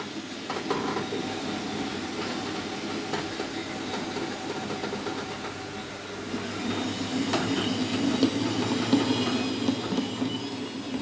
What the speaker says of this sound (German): Bis der Zug dann am Zielbahnhof ankommt.